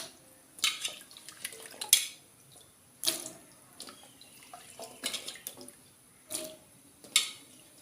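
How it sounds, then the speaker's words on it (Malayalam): Cut cassava pieces washed in water and dropped into a cooking pot, with bursts of splashing and sloshing, knocks of pieces against the pot, and quiet gaps between each handful. "ഇനി അത് കഴുകി വേവിക്കാനുള്ള പാത്രത്തിലോട്ട് ഇട്ട് കൊടുക്കാം."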